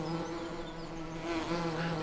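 Steady buzzing of a swarm of bees in the Farming Simulator 17 video game, a continuous close drone with a constant pitch and no breaks.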